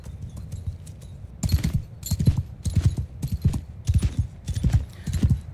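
Cavalry horses in Mount & Blade II: Bannerlord move across a battlefield, hooves clip-clopping in loud rhythmic bursts of galloping after a quieter start, close and punchy.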